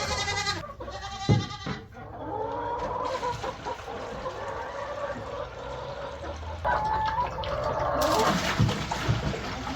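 Goats bleat and chickens cluck around a farm pasture where a movable chicken enclosure sits on fresh grass, several calls near and overlapping in a steady outdoor bustle, with a voice briefly heard.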